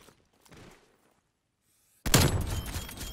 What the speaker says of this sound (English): Toss this grenade right there.